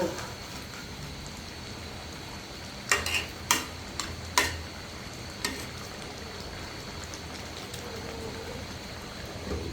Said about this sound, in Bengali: আমি আরও একবার তরকারিটা নাড়াচাড়া করে দেব